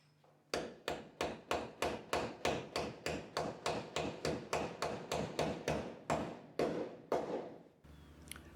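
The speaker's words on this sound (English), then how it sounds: "let's go put these bushings in the frame" Steady hammer blows drive bushings into a truck frame during a front lift install, about twenty sharp, evenly spaced metallic strikes that are loud and close, with nothing else heard.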